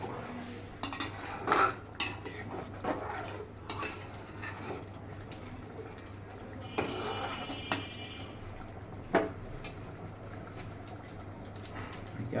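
Metal spoon scraping and clinking against a pot as kala bhuna beef curry is stirred, irregular clatters over a low steady hum, a voice occasionally speaking nearby.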